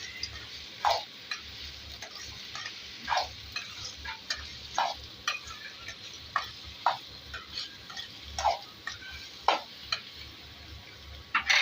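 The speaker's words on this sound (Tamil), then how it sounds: "தக்காளி காய் சீக்கிரம் வேகாது நல்லா கிண்டி விடணும்" Snake gourd and tomato fry in a pan while a spoon stirs them. The stirring comes as repeated sharp scraping clicks at an irregular rhythm over a quiet, soft sizzle.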